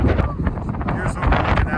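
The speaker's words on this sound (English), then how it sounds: "when I step over to this spot, it gets super windy" Strong wind buffets the microphone at an open spot in Peru's Sacred Valley, a loud continuous low rumble with gusty swells, and a voice talks underneath.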